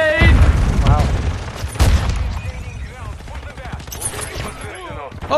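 A grenade explodes in a first-person shooter video game, a loud close boom at the start followed by another heavy blast, amid gunfire and chatter from players talking.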